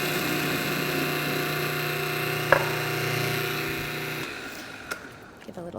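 Food processor blending a lentil salad dressing with sweet paprika and salt, a steady motor whir running for about four seconds before cutting off, followed by a couple of faint clicks.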